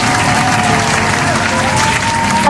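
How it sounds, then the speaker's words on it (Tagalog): Steady, loud applause from a crowd runs evenly throughout, a dense wash of clapping with no clear cheers standing out above it. "isang palakpakan na may kasamang hiyawan ang aking ibibigay para sa iyo"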